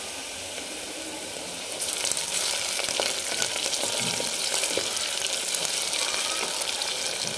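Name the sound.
onion frying in oil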